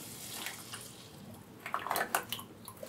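Water poured into a tomato sauce can to rinse it while cooking a vegetarian pasta sauce, soft trickling and splashing that grows into a few brighter metallic sloshes near the end, close and quiet.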